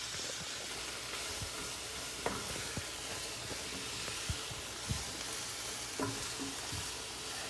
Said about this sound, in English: Okay, so it's starting to boil.